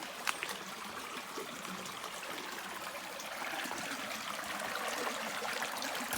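A shallow stream flows steadily over a riverbed on a farm, with a small waterfall nearby. The trickling and gurgling is soft and constant, with no voices.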